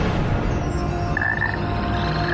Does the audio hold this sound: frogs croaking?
yes